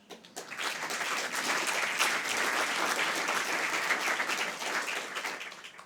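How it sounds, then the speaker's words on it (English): A hall audience at a youth employment event bursts into applause, dense sustained clapping that swells quickly, holds strong for several seconds, then tails off. "Yes, a thumping round of applause for them."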